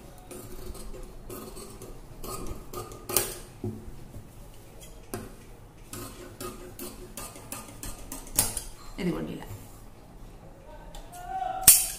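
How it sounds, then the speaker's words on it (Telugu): Scissors snip through blouse fabric along a marked line in a sewing demonstration, giving a series of quiet, crisp metallic cuts at irregular intervals over soft background noise. "ఇదిగో ఇక్కడ నుంచి ఇప్పుడు ఇక్కడ వరకు ఇలా కట్ చేసుకుందాం"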